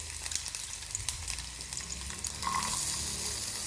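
Ginger and half a small onion sautéing in coconut oil in a pan, a steady close sizzle with occasional stirring scrapes, growing louder and denser toward the end.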